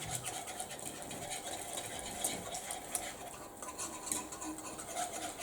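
A balloon whisk circling through macaroni cheese sauce in a pan, faint soft swishing and light scraping against the metal in a steady repeating rhythm, quiet and close.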